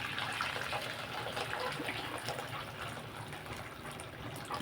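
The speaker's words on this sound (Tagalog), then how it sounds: "Dagdagan na natin ng tubig mga idol." Hot water pours into a pot of lomi noodle soup as a steady, close gushing fill that runs continuously and eases slightly toward the end, with no talking.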